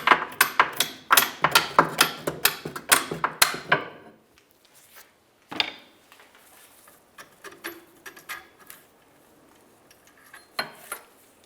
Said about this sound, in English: We're just going to use a hammer.